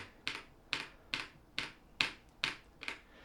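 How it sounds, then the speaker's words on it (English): Seven crisp, evenly spaced clicks of the Windows key on a YUNZII B75 PRO mechanical keyboard tap out a steady rhythm, close and clear against a quiet background. "so I'm pressing the Windows key"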